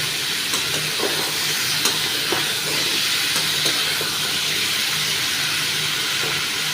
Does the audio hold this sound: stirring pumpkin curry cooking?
yes